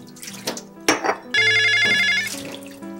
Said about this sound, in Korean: 전화 받아라.